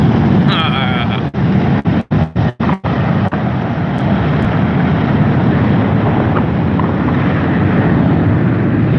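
Light aircraft climbing out at reduced throttle after a brake-torque, full-power start; a steady, loud engine drone with wind buffeting runs throughout, and a few sharp dropouts break it early on.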